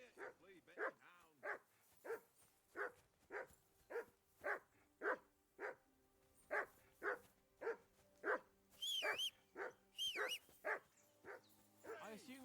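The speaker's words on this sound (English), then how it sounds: "I assume you can hear that damn dog." A dog in Kingdom Come Deliverance II barks over and over in a steady, evenly spaced string of sharp woofs, fairly close, with a few higher yelps near the end and someone talking faintly underneath.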